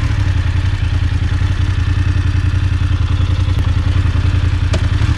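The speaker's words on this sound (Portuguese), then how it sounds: "Vou botar ali a moto pra ajudar vocês." A motorcycle engine runs on a sandy trail, a loud, close, steady throbbing drone with clattering texture and a few faint clicks, with no talking.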